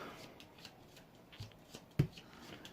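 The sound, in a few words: shuffling a deck of cards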